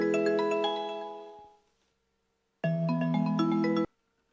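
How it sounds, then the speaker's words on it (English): A video call rings in two bursts of a bright melodic tone, the first fading out, then a pause before a second clean burst that stops abruptly, with no speech. "It's ringing."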